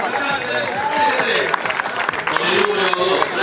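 Applause at a party for Oseas, a lawyer, with a crowd clapping and cheering in a dense, lively wash while an announcer speaks over it.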